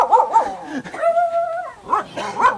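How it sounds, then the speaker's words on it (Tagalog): A dog gives several short yips and barks nearby, with a longer whining tone in the middle, then more quick barks. "May aso."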